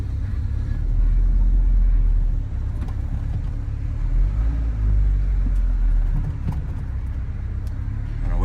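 A 1997 Mitsubishi Eclipse GSX drives along with a steady low engine rumble and road noise heard from inside the cabin, swelling slightly at moments without any talk.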